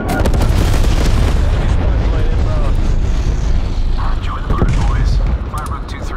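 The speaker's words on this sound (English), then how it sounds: "TACOM, deploy napalm strike." Napalm air strike in Call of Duty: Black Ops Cold War, a loud, dense roar of fiery blasts and aircraft rumble that fills the whole stretch, with game voice callouts over the chaos.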